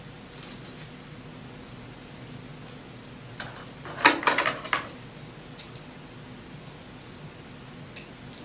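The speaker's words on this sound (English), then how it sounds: "Remove it, peel the backing back." Backing is peeled off a strip of braille label tape in a short, crinkly tearing burst partway through. The rest is a quiet room with a few faint clicks.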